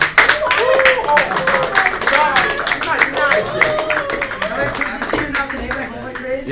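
Scattered clapping from students in a classroom during a math lesson, a lively burst with voices and chatter mixed in throughout.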